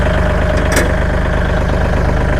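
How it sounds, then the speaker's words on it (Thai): A used Kubota L3608 tractor fitted with a front dozer blade runs with its rear PTO shaft spinning, giving a loud, steady, close mechanical drone with an even pulsing rhythm throughout. "อ่า PTO ปั่นปกติเลยนะคะ"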